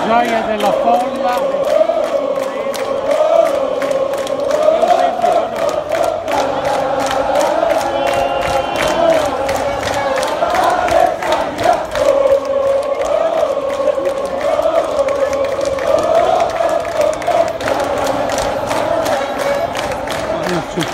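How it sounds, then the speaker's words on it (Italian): Football fans celebrate Alessandria's promotion to Serie B around an open-top team bus in the city streets, a dense continuous roar of crowd cheering and shouting with a rhythmic clapping pulse throughout. "La gioia della folla."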